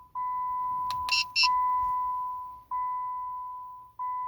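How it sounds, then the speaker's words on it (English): Programming confirmation beeps from a 2006-2007 Dodge Charger with a new key in the ignition: a steady electronic tone broken into several long beeps with short gaps, plus a brief double chime, loud and close with no talk. "wait for a few seconds until you hear the beeping sound indicating programming is successful"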